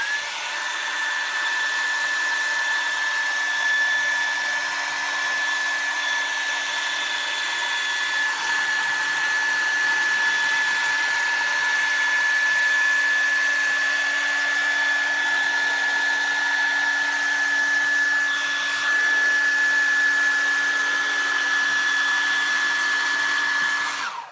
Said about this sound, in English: So I'll show you how it moves with the hairdryer.